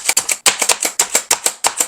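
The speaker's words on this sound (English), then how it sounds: "I'm going to chop up some pecans." Pecans chopped with a knife on a cutting board, a quick run of about a dozen sharp, close knocks in an uneven rhythm with brief pauses, heard alone.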